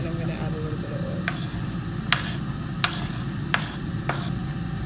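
Steady sizzling from a pot as vegetables sauté in a little oil, broken by a few sharp clinks of a utensil against the pot while stirring.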